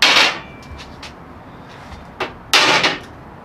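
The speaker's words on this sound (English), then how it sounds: "Knock the slag off." A hammer knocks slag off fresh tack welds on a steel platform, giving a few sharp, separate metallic strikes with short pauses between them. The blows are close, and no one speaks.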